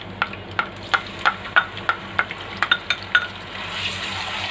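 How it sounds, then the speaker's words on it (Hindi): Ginger garlic paste frying in hot oil with bay leaves, a steady sizzle under rapid, regular clinks of a spoon stirring against the pan, close up with no voices. "और अब मैं इसमें शामिल करूँगी अदरक लहसुन का पेस्ट।"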